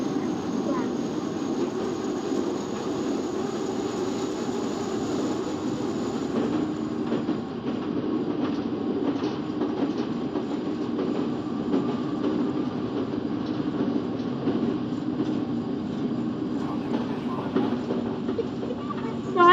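A London Underground Northern Line train rumbles along in the OpenBVE simulator near Kennington, a continuous low rolling drone with faint rail clatter, steady and close throughout.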